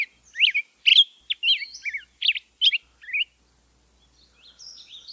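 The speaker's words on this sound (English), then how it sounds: "Let's do the black-headed grosbeak now." A black-headed grosbeak sings a bright, rich series of quick, rising and falling warbled phrases, loud and close, with a brief pause before softer notes resume at the end.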